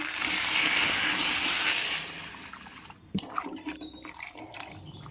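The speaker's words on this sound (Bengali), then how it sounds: "এবার কিছুক্ষণ নাড়াচাড়া করে নিয়ে তারপর জল দিয়ে দেবো।" Water poured into a pan of potato curry as it cooks, a loud steady rushing pour for about three seconds, then broken splashes and sizzling bubbles as the liquid settles.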